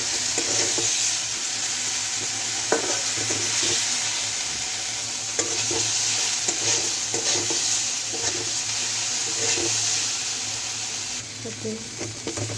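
Spice paste with turmeric and salt being stirred and fried in a pan for a Bengali fish curry, a steady close sizzle with repeated scraping stir strokes throughout, no voices.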